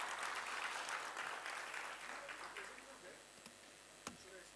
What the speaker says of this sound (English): I request all of you to give him a round of applause.